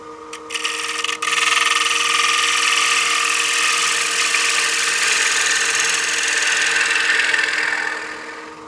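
A bowl gouge cuts a spinning piece of wood on a lathe, making a loud, steady hissing scrape that runs continuously for several seconds after a few brief starting taps, then fades off at the end.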